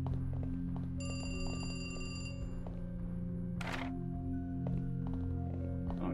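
A telephone bell rings in a basement room, a bright run of stacked tones that lasts about a second and a half, then a sharp clatter. A steady low hum and murmur sit underneath throughout.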